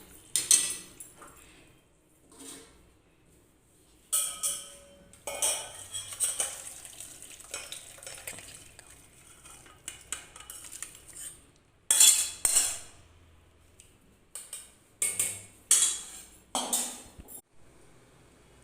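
A pot of thin Bengali fish curry is lifted off a gas stove, giving sharp metallic clinks and clatters of cookware in scattered bursts against quiet kitchen background.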